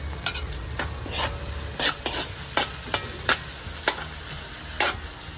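Garlic, ginger and onion sauté in oil for squid adobo, a steady close sizzle with repeated sharp clinks and scrapes of a spatula stirring the pan, no voices.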